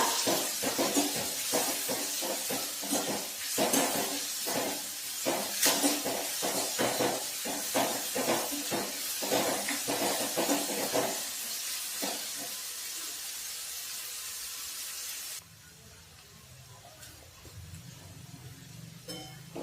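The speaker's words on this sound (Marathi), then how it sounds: "लसूण हिरव्या मिरची पेस्ट आता व्यवस्थित परतून घेऊया" Garlic and green chili paste sautéing in a pan for besan pitla, a steady sizzle with frequent clinks and scrapes of stirring, close and fairly loud, then fading to a quieter hiss near the end.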